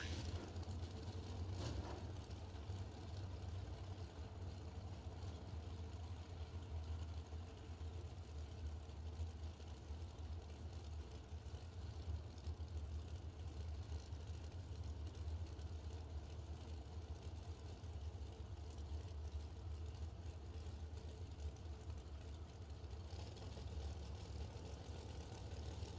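A generator runs steadily for the whole stretch at a drag racing event, a loud, constant low engine drone with no breaks and no voices over it.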